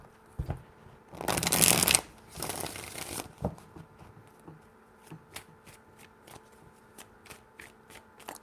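Tarot cards are shuffled close up: two loud riffling bursts, followed by a run of quiet, evenly spaced clicks as the cards are handled.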